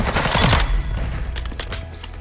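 Rapid bursts of gunfire ring out in a video game gunfight on a penthouse map, a dense close volley at the start that thins into scattered shots and echoes.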